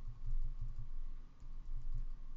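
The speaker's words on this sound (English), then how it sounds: "I'm pressing up on the keyboard" Computer keyboard keys pressed in a quick series of soft typing clicks, close and quiet with no talk.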